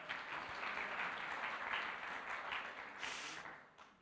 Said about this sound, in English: Let's give him a big hand clap.